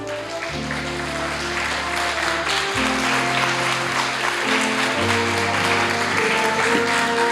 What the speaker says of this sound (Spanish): Yo creo que eso merece un aplauso al Rey